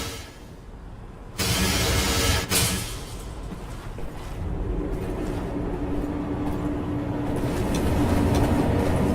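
A train runs in the Wolfenstein video game, a steady broadband rumble that rises sharply after a quiet opening and then holds loud and continuous, with no talking.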